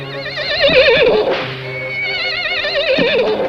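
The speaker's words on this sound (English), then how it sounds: "You just don't see many horses like this around." Horse neighing loudly and close, a long wavering whinny that breaks off and resumes, with a brief thump in between, set in a 1971 Western film scene.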